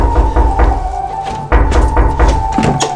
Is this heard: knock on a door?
yes